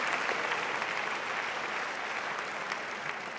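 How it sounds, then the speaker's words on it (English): Audience clapping steadily at the 2024 opening ceremony, a dense, even wash of applause that holds at a moderate level throughout, with no voices standing out. "You clap."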